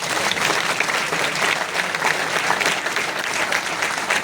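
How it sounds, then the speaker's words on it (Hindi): A crowd at a Uttarakhand Sanskrit University convocation ceremony breaks into loud, sustained applause, thick overlapping clapping from many people, steady for the whole stretch. "एक ताली तो मारिए जोर से"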